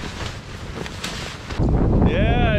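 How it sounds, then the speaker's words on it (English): Strong wind buffeting the microphone in rough gusts on a cold island in Alaska, growing louder and harsher near the end, with a faint whistling tone. "It's cold and windy right now."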